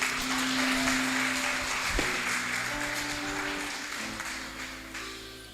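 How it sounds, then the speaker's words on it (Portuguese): A church congregation claps in praise after a prayer, with dense, steady applause that holds throughout and slowly fades toward the end. "As palmas louvam ao Senhor."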